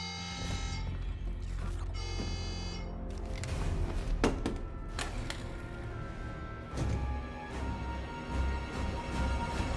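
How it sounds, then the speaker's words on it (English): An alarm buzzer rings in the Call of Duty Black Ops 6 campaign, a steady electronic tone held for the first few seconds amid busy game sounds and mechanical clatter. "Get close to the door and trip the alarm."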